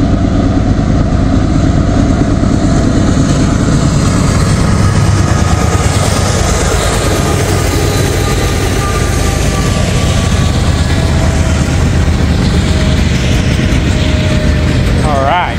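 A Norfolk Southern freight train led by an SD70ACe locomotive hauls coke past at close range, producing a loud, continuous rumble of engine and rolling wagons, with a brief rising squeal near the end.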